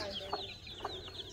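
Hen and her small chicks clucking softly, with a couple of brief, faint clucks standing out over a quiet, steady background.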